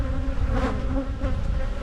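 Honey bees buzzing densely around an opened hive, a close, continuous swarm drone with a few louder passes from individual bees.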